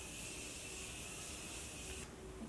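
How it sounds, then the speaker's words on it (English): A steady, close hiss of Morphe makeup setting spray misting for about two seconds, then cutting off. "I'm just going to add a spritz of my Morphe setting spray."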